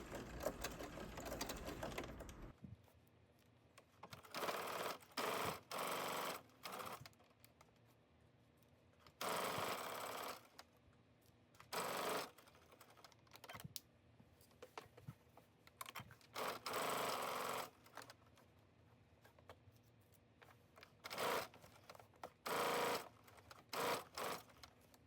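A sewing machine edge stitches a back pocket onto a jumpsuit in a series of short, separate bursts of quick needle chatter, with brief pauses of near silence between runs.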